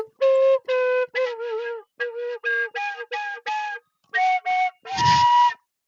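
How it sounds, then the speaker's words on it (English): Short slide whistle toots in a bouncy rhythm, several gliding slightly in pitch, ending with a longer, noisier blast. "Why does that sound like my slide whistle?"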